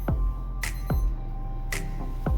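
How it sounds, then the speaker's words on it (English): An electronic alarm going off indoors, a repeating pattern of sharp sweeping electronic chirps, several in quick succession over a steady tonal hum, with no voices. "Sorry, that was my alarm."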